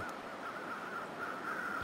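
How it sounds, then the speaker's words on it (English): Crows caw in a wintry wilderness in the survival game The Long Dark. A wavering, raspy tone carries on steadily at moderate distance, with no voices. "See, there's some birds over there, so something is dead there."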